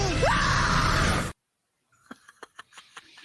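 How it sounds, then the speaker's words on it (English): The Red Death character from a Flash animation lets out a loud, harsh, drawn-out scream lasting about a second, which cuts off abruptly into silence before faint, short vocal sounds follow. "Do you have the one of Red Death screaming still"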